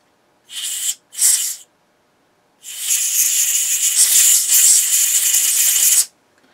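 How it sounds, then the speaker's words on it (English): Two short hissing bursts of aerosol cleaner spray on a dusty record player, followed after a pause by one long continuous spray lasting several seconds, close and fairly loud. "I'm just gonna try some spray"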